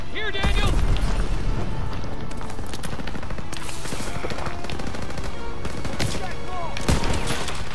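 Dense machine-gun and rifle fire from the World War II shooter Call of Duty: WWII, rapid bursts and booming shots crowding the whole stretch with loud, continuous battle noise.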